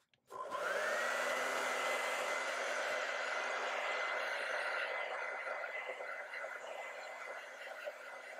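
Hair dryer blowing on a wet acrylic painting, switching on with a short click and then running as a steady, close whooshing whine with a constant pitch.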